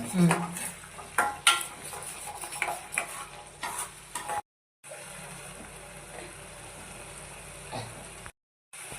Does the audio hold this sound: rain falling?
no